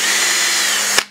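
A power drill bores into the wood of a homemade birdhouse. The motor whines loud and close for about a second, then stops abruptly.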